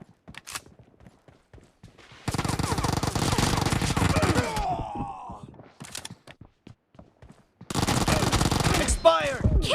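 UZI fire in PUBG rips out as two long sustained automatic bursts, loud and close, separated by a quieter stretch of scattered thuds and small game noises.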